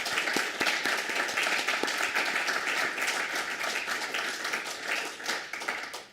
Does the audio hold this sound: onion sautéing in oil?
no